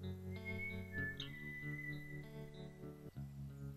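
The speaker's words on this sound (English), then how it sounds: "that sad whistling" Someone whistles a slow, mournful tune in long held notes, fairly close and quiet, with no talking.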